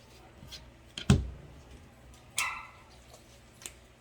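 Dogs barking in a home, heard as a few short, faint barks spaced apart in the background with no talking over them.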